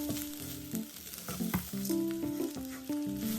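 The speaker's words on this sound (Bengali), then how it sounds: "চাউলগুলো ভালো করে ভাজা হয়ে গেছে" Washed basmati rice fries in a pan for coconut pulao, a soft, continuous sizzle with stirring, largely overlaid by melodic background music.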